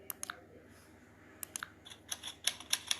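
Typewriter typing effect added in an Android video editor: scattered sharp key clicks, a few at first, then a quicker run of louder clacks near the end, close and dry with no talk.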